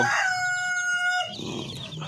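Darag native Filipino chickens crow loudly and nearby, one long drawn-out call followed by a burst of clucking from the flock.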